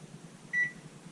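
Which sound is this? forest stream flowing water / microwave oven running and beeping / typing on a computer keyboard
microwave oven running and beeping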